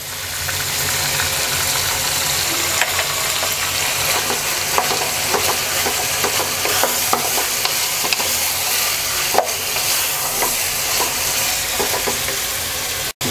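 Two tablespoons of ginger garlic paste sizzling and frying in a pan while being stirred, a steady close crackle with scraping stir strokes throughout and no talk.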